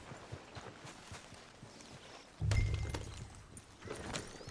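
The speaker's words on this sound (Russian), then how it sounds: "лошадь за мной ходит, Бьюэлла." Horse hooves clip-clop at a walk in the Red Dead Redemption 2 game, a steady run of light, near footfalls that briefly drop under a louder low thump partway through.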